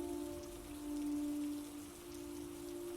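Steady rain falling and pattering on surfaces, a continuous wash of drops with a low droning hum underneath, even and unbroken throughout with no voices.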